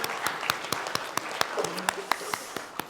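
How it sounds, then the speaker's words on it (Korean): A church congregation at Sunday service gives rhythmic applause, distinct evenly spaced claps in unison, moderately loud with faint voices beneath. "하나님께 영광의 박수 올려드립니다."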